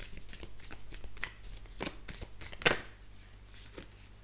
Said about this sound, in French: Pardon, là les cartes ont glissé.